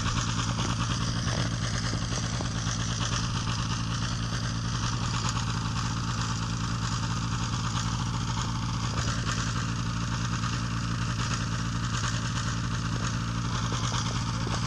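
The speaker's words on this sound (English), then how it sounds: "I warmed up the engine" A light aircraft's propeller engine idles loudly and steadily nearby while warming up, a constant throbbing drone with a faint clatter and no speech.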